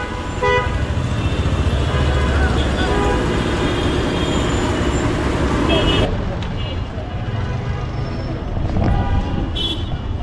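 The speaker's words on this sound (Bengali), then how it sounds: "দেখুন কি পরিমাণ জ্যাম এখনও" Gridlocked night traffic on a Dhaka street, a constant loud roar of idling and creeping vehicles with horns tooting repeatedly, some long and close, under a voice speaking.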